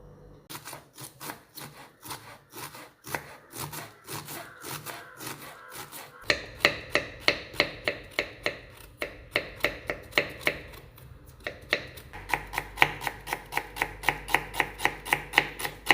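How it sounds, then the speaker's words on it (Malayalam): Knife chopping cabbage, onion, carrot and green chili on a board for an omelette: quick, steady rhythmic taps, slower at first and then faster and sharper, close and clear with no talking. "ഒരു കഷ്ണം ക്യാബേജ് ഒരു സവോള ഒരു ക്യാരറ്റ് ഒരു പച്ചമുളക് ഇതിനെ നമുക്ക് ചെറുതായിട്ടൊന്ന് അരിഞ്ഞെടുക്കാം"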